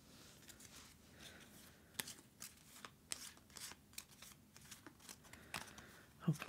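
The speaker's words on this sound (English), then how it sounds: "So we'll give that a shuffle." A deck of game cards is shuffled up close, giving a quiet run of soft riffling flicks and sharp card snaps at irregular intervals.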